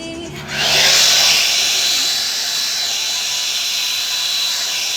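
A blower kicks on and runs steadily as a loud, broad whooshing rush that holds almost unchanged to the end, with no talk over it.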